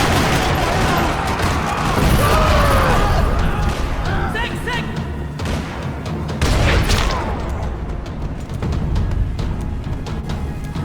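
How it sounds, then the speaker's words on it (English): Loud volleys of gunfire and booming blasts rumble through a parking lot in Max Payne 3, dense and continuous, with faint voices mixed in. "Another parking lot rattling with gunfire."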